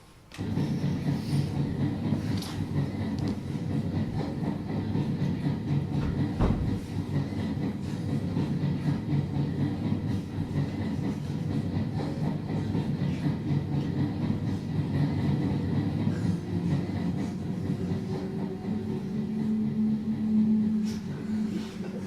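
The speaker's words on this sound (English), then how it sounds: "I have to catch the slow train." A slow train rolls steadily along the railway, a continuous low rumble and rattle of wagons that stays even and moderately loud throughout, with a brief thump partway through.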